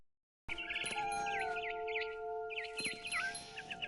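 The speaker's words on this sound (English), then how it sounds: "Then I heard chirping outside my window. It was a barn swallow going back to her nest." A barn swallow chirps repeatedly in the video game What Remains of Edith Finch, with quick warbling calls in two bursts over a steady, faint ambient hum, no talking.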